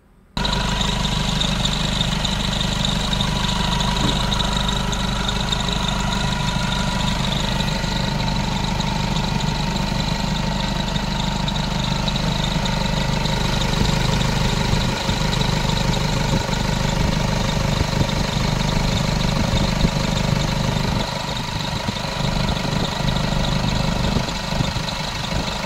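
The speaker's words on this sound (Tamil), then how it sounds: "இப்போ இன்ஜினோட நாய்ஸை லைவாக வந்து கேளுங்க." Idling engine of a Mahindra Xylo, a steady loud rumble with a constant low drone and mechanical clatter that holds for the whole stretch, alone with no talk.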